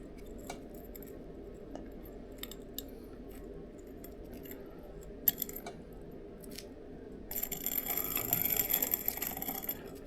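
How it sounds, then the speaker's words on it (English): A piston ring grinder filing the end gap of a DRZ400SM piston ring. Faint scattered clicks and taps lead into a louder burst of rough, hissy grinding near the end, set against a quiet background with no talk. "I've got my ring grinder here."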